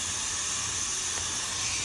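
A steady, even hiss of escaping steam runs unbroken throughout from a pressure cooker venting while cooking corn, with a faint low rumble beneath.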